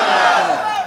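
A large crowd at an Islamic mahfil gathering in Raiganj, Sirajganj, Bangladesh roars the takbir response 'Allahu Akbar' in one brief, loud, unified shout.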